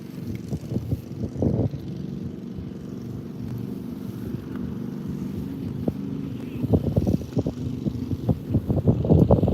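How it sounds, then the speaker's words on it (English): Wind buffeting a microphone on a fishing boat out for largemouth bass, low irregular rumbling gusts and thumps that swell and fade, loudest near the start and end, with no talking. "Got this wind working against me now."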